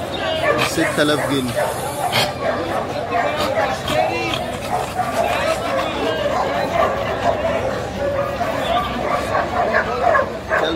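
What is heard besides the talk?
dog barking at a market, Kurbuli brindle dog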